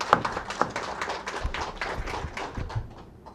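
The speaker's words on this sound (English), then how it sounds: "So we would like to give another round of applause to her also." A seated audience at a talk gives a round of applause, a modest, fairly quiet patter of claps heard from a distance that thins toward the end.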